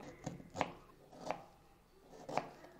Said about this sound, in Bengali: যতটা সম্ভব পাতলা পাতলা করে কেটে নেব